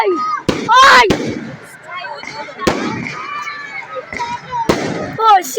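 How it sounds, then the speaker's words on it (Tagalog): Fireworks burst in sharp loud bangs spaced a second or two apart during an All Souls Day celebration, with crackling and whistling between blasts and excited voices shouting close by. "Fireworks on!"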